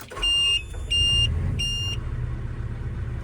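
A CASE excavator engine is cranked and started: three loud warning beeps come first, then the diesel fires and settles into a steady low idle close by.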